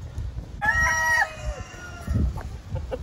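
A Barred Rock chicken gives a short drawn-out call followed by a few soft clucks, with low background rumble.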